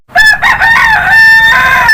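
A rooster crows loudly and close on a poultry farm, a long strained cock-a-doodle-doo, with hens clucking faintly beneath it.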